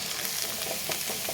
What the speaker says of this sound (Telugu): ఈ జీలకర్ర వేయించి మొత్తం కూరలో కలిపేద్దాం